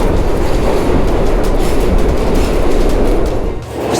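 A passenger train rolls past close by, a loud sustained roar with rhythmic clatter of wheels over the rails that persists throughout and eases slightly near the end.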